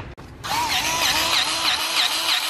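A grease gun working wheel bearing grease into outdoor bearings gives a steady loud mechanical whir after a short pause, with faint repeating squeaks riding over it.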